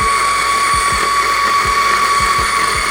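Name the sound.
DF54 coffee grinder running while clogging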